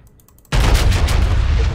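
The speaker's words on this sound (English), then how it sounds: "Open fire on him with 16-inch shells." A battleship's 16-inch guns fire a salvo in World of Warships, breaking out of near silence into a loud, booming blast that rumbles on in a sustained roar.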